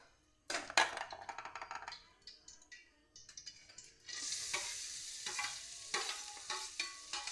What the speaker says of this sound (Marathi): आता कढईमध्ये तूप घातलेलं आहे आणि हे आता ड्रायफ्रूट्स फ्राय करून घ्यायचे